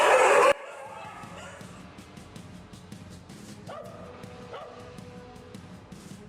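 Stray dogs bark and yip on a Karachi street, a burst of loud noise up front followed by repeated sharp barks and whimpers at moderate distance over steady street background.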